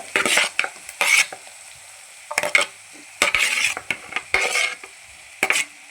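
Fish with onion, carrot and tomato frying in oil while being stirred, heard as loud bursts of sizzling and spatula scraping against the pan in uneven strokes separated by quieter gaps, with no voices.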